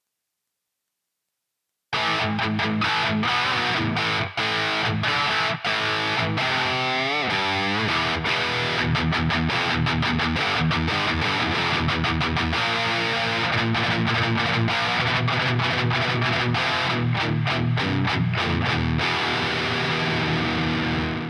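Heavily distorted electric guitar through a stock cabinet impulse response plays chugging chords and riffs with a touch of reverb, loud and continuous after a brief silence.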